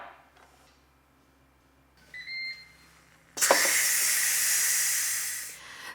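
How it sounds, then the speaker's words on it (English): An electric pressure cooker making vegetable lentil soup gives a short beep. Then a sudden loud, steady steam hiss bursts out as the pressure is released, close by and sustained for several seconds before fading slightly. "it took about 3 minutes, or just thereabout, for all the pressure to be released, all the steam to be released"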